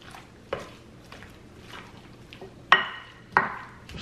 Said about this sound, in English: And I'm going to fold and stir the vegetables in.